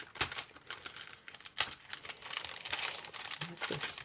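Paper crinkles and rustles close up in short irregular bursts as it is handled in a gift package, with light crisp crackles and pauses between them.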